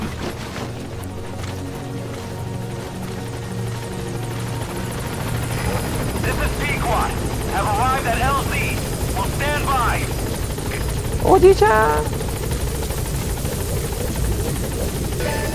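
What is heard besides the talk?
support helicopter arriving in Metal Gear video game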